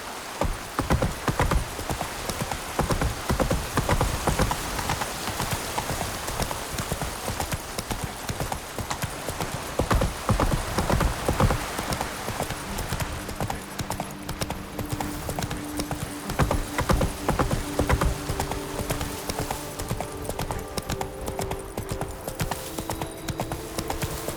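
Roach, a horse in The Witcher 3, galloping in a fast, steady clip-clop of hooves close by, the rhythmic pounding continuing throughout with a rain-like hiss in the background.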